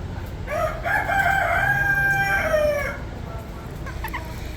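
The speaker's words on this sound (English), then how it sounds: "Very cool rooster." A rooster at a county fair 4-H poultry show gives one loud, close crow lasting about two seconds, with faint clucking and barn noise around it.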